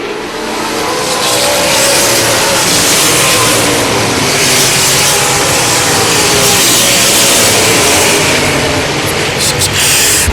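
Late model stock cars race around an oval track, engines roaring continuously and loud as the pack powers through the turns and down the straightaway, with a commentator talking over the racing.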